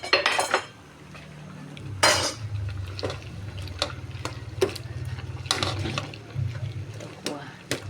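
Tofu being added to a cooking pot of Filipino fish tinola with vegetables, heard as repeated clinks and scrapes of utensil against pot with wet stirring noises, loud and irregular, no talk.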